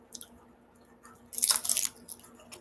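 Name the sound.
crunchy food being bitten and chewed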